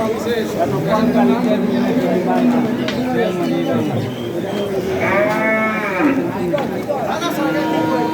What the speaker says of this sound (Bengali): হাটে গরু চলে আসতে আস্তে আস্তে বাসা থেকে সবাই গরু নিয়ে আসতেছে